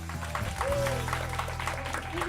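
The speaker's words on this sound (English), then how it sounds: "Give one more big round of applause." Audience applause on a Greece travel show quiz aboard a boat, a diffuse, soft spread of clapping blended with steady tonal background sound and a faint voice.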